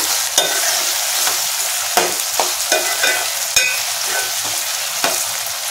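Tomatoes fry in a pan with a steady broadband sizzle as a country chicken curry cooks, punctuated by about a dozen sharp scraping knocks of a spoon stirring at irregular intervals, close and fairly loud, with no talking.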